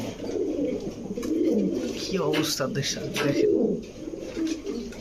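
Teddy, Lahori and racer pigeons coo in deep, repeated throaty calls close by, while someone talks over them.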